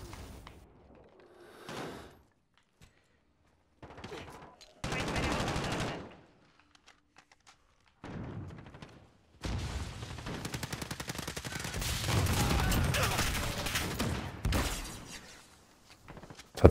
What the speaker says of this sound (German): Hat der auf meine Mine geschossen und hat mich damit getötet.